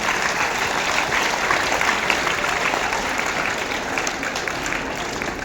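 Steady, even audience applause at a school parenting seminar, many hands clapping at once without pause or cheering.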